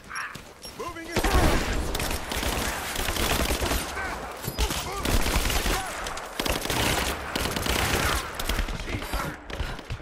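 Heavy gunfire in Rise of the Tomb Raider, sustained bursts and fusillades running almost without a break after a brief quieter opening, mixed with booms and shouted combat voices.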